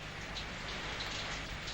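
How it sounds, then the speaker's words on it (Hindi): Heavy rain falling outside, a dense, steady hiss of drops hitting surfaces, constant and unbroken throughout with no voices. "बाहर काफी जोर से बारिश हो रही है।"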